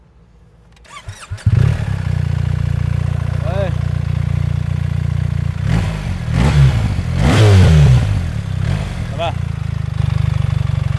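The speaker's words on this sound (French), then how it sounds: "Est-ce que tu peux nous la démarrer? Parce que ce serait cool aussi qu'on entende un petit peu ce petit pot là." A 2024 BMW R1300GS motorcycle on Réunion fires up with keyless start, catches after a few stutters and settles into a steady, close idle with a couple of blips of revving, while someone briefly speaks.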